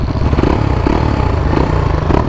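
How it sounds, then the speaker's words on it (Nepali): Motorcycle fitted with its original stock silencer exhaust, running close by with a steady, throbbing mid-pitched engine note and a slight rattle, no voices. "मैले चाहिँ तपाईँहरूलाई नयाँ अपडेट बाइकमा मैले चाहिँ मेरो ओरिजिनल स्टक साइलेन्सरै हालेँ"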